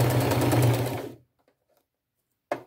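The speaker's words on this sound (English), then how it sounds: "I'm going to take it to my machine and just stitch all along" A sewing machine stitching the seam of a drawstring purse, a close, fast, even mechanical whir that runs for about a second and stops, followed by silence and a brief restart at the end.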